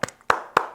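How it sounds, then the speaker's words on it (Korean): Congregation clapping during a Christmas worship service at a church: a few sharp, close hand claps in an uneven burst, not a sustained ovation. "우리 다시 한번 큰 영광의 박수 올려드립시다."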